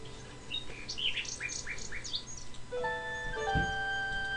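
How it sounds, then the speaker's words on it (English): A nightingale sings in King's Quest VI, a quiet run of bright synthesized chirps and trills followed by sustained whistled notes, with no talk. "A, nightingale perches on a high branch of the tree. She sings the most beautiful song Alexander has ever heard."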